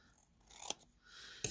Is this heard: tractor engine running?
no